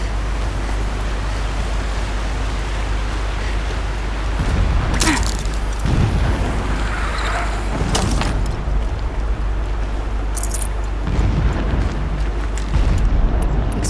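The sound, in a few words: distant explosions in a video game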